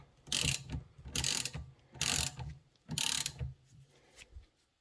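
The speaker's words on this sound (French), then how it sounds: "On serre et ça commence à comprimer le ressort tout doucement" A ratcheting spring compressor tightens down on a coil spring from a BMW 525 tds E34, giving four distinct bursts of quick clicking with short pauses between them, close up and alone.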